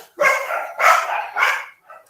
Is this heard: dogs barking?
yes